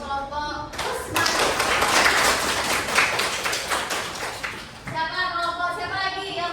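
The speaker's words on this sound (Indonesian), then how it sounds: "Aplaus lagi untuk kelompok Utsman." A classroom audience applauds a student group after their presentation in a teacher-training session, a dense burst of many hands clapping that swells and runs for several seconds before fading, with voices around it.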